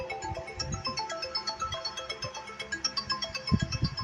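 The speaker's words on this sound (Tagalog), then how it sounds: "Diyos ko, nag-a-alarm na naman yung cellphone niya." A cellphone alarm ringing in a steady, repeating electronic melody that stays clear and fairly close for the whole stretch, with no talking over it.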